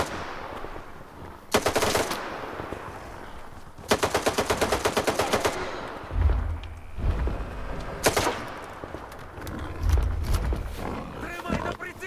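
Gunfire in STALKER 2: several loud bursts of rapid automatic fire, one long rattling volley in the middle, separated by low rumbling booms and roaring animal-like sounds, with no talking.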